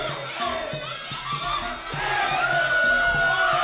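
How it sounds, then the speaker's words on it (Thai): A packed crowd at a Thai boxing match cheers and screams loudly, with high-pitched female shrieks rising over the roar and a steady rhythmic drum beat underneath. "สาวสาวนี่เข้าไปกรี๊ดกันเยอะครับไม่รู้เสียงฝั่งไหนฝั่งไหนนะครับระงมไปหมดแล้ว"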